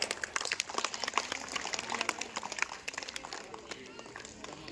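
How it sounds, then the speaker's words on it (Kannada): An audience at a ceremony honouring a young achiever claps steadily, a dense patter of many hands heard at moderate distance, fairly faint and continuous throughout. "ಅವರಿಗೆ ಮತ್ತೊಮ್ಮೆ ಜೋರಾದ ಚಪ್ಪಾಳೆ"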